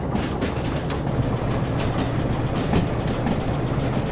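Train rolling along the track in the rail simulator game Derail Valley, with steady rumbling wheels and rhythmic clickety-clack over rail joints throughout, loud and close with no talk.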